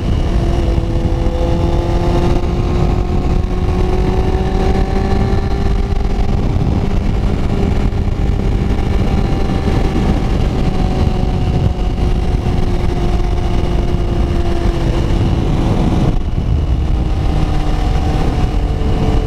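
A 2022 Honda CBR650R with an R1 2019 exhaust tip rides through town, its engine droning loud and steady with slowly shifting pitch throughout.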